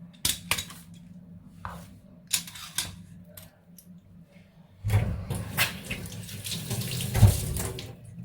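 Grated radish is rinsed under a running kitchen tap: quiet handling and clinks at first, then water gushes loudly into a sink with dishes rattling, and no one speaks.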